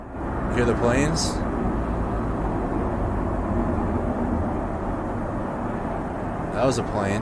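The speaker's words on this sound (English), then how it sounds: "That was a plane." An airplane passes overhead as a low, steady rumble that lingers for several seconds beneath a busy background, with brief higher bursts near the start and end.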